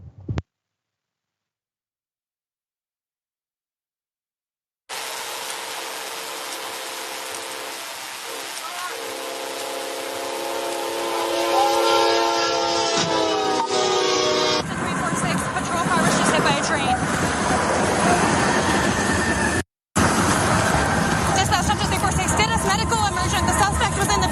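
A train bears down on a police squad car parked on the tracks: a long, blaring horn and rising rail rumble build loudly for many seconds, with a brief cut, and voices mixed in under the noise.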